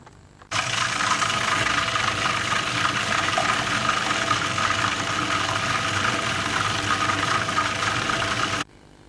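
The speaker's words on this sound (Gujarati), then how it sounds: "હવે ઓનિયનનું ચોપિંગ પલભરમાં અને તે પણ આંખોમાં આંસુ વિના મોટા ટુકડા માટે થોડું ચલાવો." A domestic food processor whirs steadily while chopping onions, a loud continuous motor hum with slight rattle and vibration that starts abruptly and cuts off cleanly after about eight seconds.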